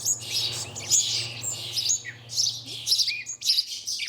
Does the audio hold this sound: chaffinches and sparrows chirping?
yes